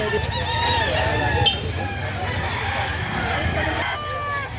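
A rooster crows at a chicken sale in Lipa City, Batangas, its call rising over a busy outdoor crowd, with people talking in the background throughout.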